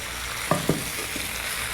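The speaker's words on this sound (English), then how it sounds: "Stir them up" Fried tofu stirred into fried noodles in a hot pan, a steady hiss of frying with two quick scraping stirs near the middle of the short stretch.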